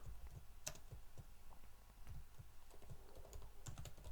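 Steady, quick keystrokes on a computer keyboard while code is typed, close and continuous clicking with no talk.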